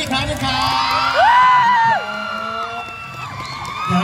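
A crowd at a university open house show for a Thai band cheers with high-pitched screams and whoops that swell in the middle, loud and close, alongside some clapping.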